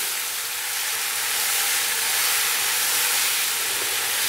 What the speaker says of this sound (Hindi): अभी मैं इसको 3 से 4 मिनट के लिए मीडियम स्लो फ्लेम पे भून लूंगा ताकि प्याज अच्छे से नरम हो जाए